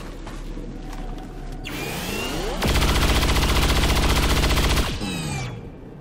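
XCOM 2 War of the Chosen gunfire aimed at an enemy: a rising mechanical whir builds up, then a loud sustained burst of rapid automatic fire lasting about two seconds, ending in a fading sweep.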